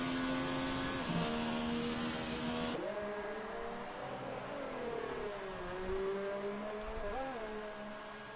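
A Ferrari race car engine in a racing video game, a steady high whine shifting in pitch through gear changes and corners, heard fairly faintly and continuously.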